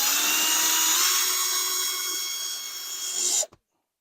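Power drill driving a screw into a plastic rice or dog food container for a camping sink, a steady close whirring drone lasting over three seconds before stopping abruptly, with no talking.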